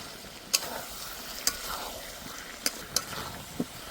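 Chicken curry with young jackfruit sautés in a pan, a low steady sizzle punctuated by a handful of sharp spoon taps and scrapes against the pan as it is stirred, close and without talking.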